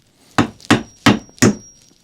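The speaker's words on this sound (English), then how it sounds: "hammer them out, maybe?" Four sharp hammer blows land on a hard surface at an even pace in a woodworking shop at a table saw, close and loud, with quiet in between.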